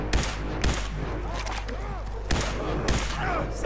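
Sharp, loud shotgun blasts from Fallout 4 crack out several times, spaced irregularly, under a continuous game soundtrack.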